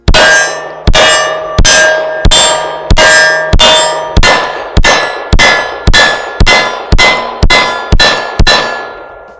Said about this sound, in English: All right, Gen V, first shots.